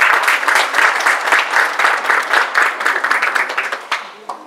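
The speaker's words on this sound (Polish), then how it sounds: "Ale jeszcze raz wielkie brawa, szanowni państwo." A crowd at an outdoor show jumping competition gives loud, sustained applause, dense and close, with individual claps audible as it tapers off near the end.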